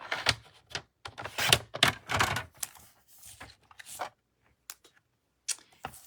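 Cardstock cut to size for a handmade Christmas card, giving a series of crisp, close cutting and handling noises in irregular bursts, then a short quiet gap and a few sharper clicks.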